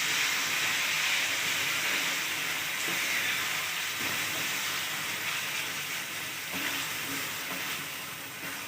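Minced meat frying in a pan for a bitter gourd and keema dish, giving a steady, fairly quiet hissing sizzle that holds evenly throughout with a few faint stirring knocks.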